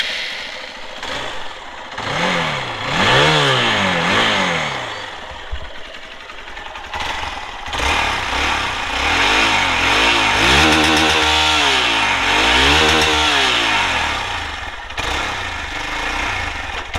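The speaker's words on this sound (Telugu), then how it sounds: "ఒకసారి మీరు ఎగ్జాస్ట్ నోట్ అయితే ఇవ్వండి" A Hero Xpulse 200 motorcycle is revved repeatedly from idle, its single-cylinder exhaust rising and falling in several loud, close blips with a buzzy tone, no talking.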